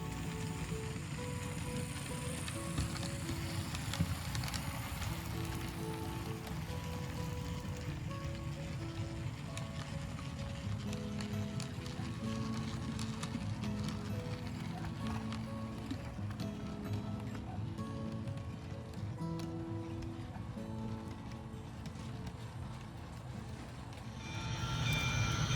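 An HO scale Camelback steam locomotive model with a center cab runs steadily on track, giving a continuous rolling, rattling clatter with faint mechanical whine, fairly close and even throughout, with a louder shift near the end.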